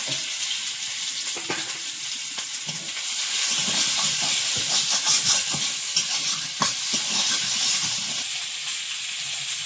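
Garlic and five-spice seeds sizzle in a little hot oil in a wok. A loud, continuous crackling fry is dotted with sharp pops and spatters and clinks of stirring, with no voices.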